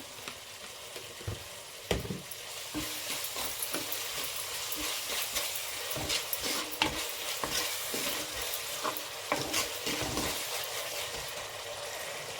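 Onions with salt fry in a pan under a steady, close sizzle, with a spatula repeatedly scraping and stirring through them.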